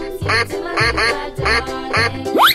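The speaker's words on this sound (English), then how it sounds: "Duck." A cartoon duck quacks four times in a loud, evenly spaced series, ending with a quick upward whistle slide.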